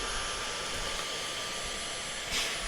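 A vacuum cleaner runs in an apartment during a decluttering session, a steady broadband roar with no breaks and a brief swell near the end.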